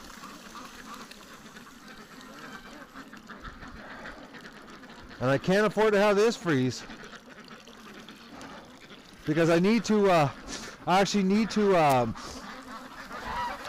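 Free-range ducks in a snowy winter pen let out loud bursts of honking quacks, two separate clusters of calls close by, while someone talks over the background.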